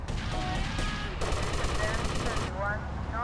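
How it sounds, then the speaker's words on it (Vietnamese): Gunfire from a weapon in GTA Vice City Remastered, a dense burst of rapid shots rattling loud and close over game effects for most of the span, with a voice talking over it. "Súng này bắn khá là đẹp các bạn."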